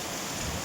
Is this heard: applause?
no